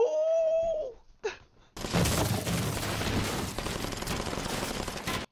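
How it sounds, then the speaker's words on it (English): Sustained automatic gunfire, heavy and close, from a suppression-fire scene in the crime drama Gangs of London, episode 6. A short strained voice cry comes first, then a dense, continuous barrage of shots. "Suppression fire!"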